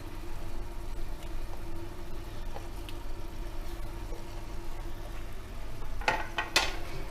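Prawn masala sizzling in a pan while it is slowly stirred, a steady low frying hiss with a few louder scraping clatters near the end.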